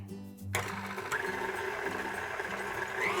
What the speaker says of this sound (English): go ahead and turn the mixer on just to cream those two together